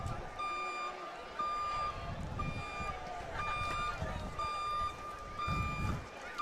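Truck-style reversing beeps play as a sound effect at a high school football game, a steady run of evenly spaced electronic beeps over crowd noise and commentators talking.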